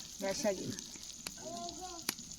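Chicken frying in a pan, with a steady close sizzle throughout and occasional sharp crackles, while people talk over it.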